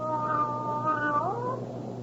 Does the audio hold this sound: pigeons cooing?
no